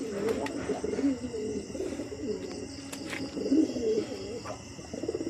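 A caged adult pair of pigeons coos nearby, giving soft, low, rolling calls in a few repeated bouts over light background noise.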